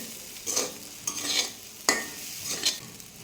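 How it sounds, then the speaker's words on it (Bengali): Sago and vegetables are stirred in a pan for an Ekadashi sago pulao, making four distinct scraping strokes with a soft sizzle between them and no voices. "সাগুগুলোকে ভালোভাবে নেড়ে ছেড়ে সবজির সাথে মেশাতে হবে।"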